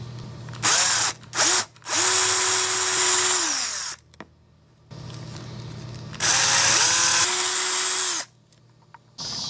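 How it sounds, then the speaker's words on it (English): A power drill whirs in several bursts, spinning up, running steadily, then stopping, with short quiet gaps between, drilling holes in a GoPro Hero3 housing. "Now I'm going to drill a hole on each side right here."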